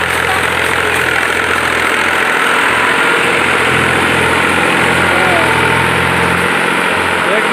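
A tractor engine runs steadily and loudly while pulling a plough through a field, a continuous rumbling drone with knocking texture throughout, with someone talking over it.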